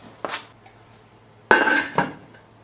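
A lid goes onto a pot of chicken noodle soup with potatoes and herbs: a light clink, then a louder metallic clatter and a short rattle as it settles, close and clear with no talking.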